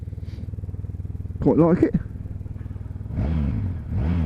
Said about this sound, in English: Engine start as you'd expect it. Ooh, bit of a growl, not too bad that.